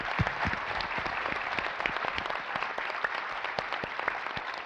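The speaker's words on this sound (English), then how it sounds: "So round of applause for the organizers of this event." An audience at a community peace forum applauds the event organizers, with a dense, even wash of clapping and a few sharper individual claps standing out, sustained at moderate volume.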